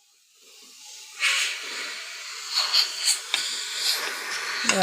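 Steam escapes from a puttu steamer on the stove with a soft, rising hiss that settles into a steady hiss. A few brief louder spurts stand out, and no one speaks.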